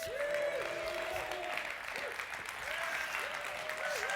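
A church audience breaks into sustained applause with cheering, a steady wash of clapping that holds throughout with faint voices mixed in.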